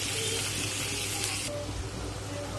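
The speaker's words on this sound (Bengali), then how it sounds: "চলো পেঁয়াজটাকে লাল লাল করে ভেজে নিই।" Onions frying in a pan give a steady close sizzle with faint stirring scrapes, the bright hiss thinning partway through.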